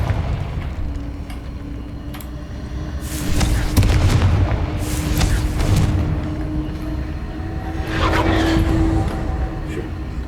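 A Confringo spell blast from Hogwarts Legacy lands as a loud booming explosion, then a second blast follows a few seconds later, both over a steady background hum with game sounds around them.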